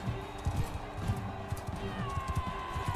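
Horse hooves gallop in a steady, rapid clip-clop rhythm in the medieval combat game Mount & Blade II: Bannerlord, fairly close and continuous, with a sustained tone and other game sounds underneath.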